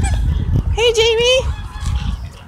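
A goose or duck at a park gives one loud, drawn-out honk near the middle, with rustling and handling noise around it outdoors.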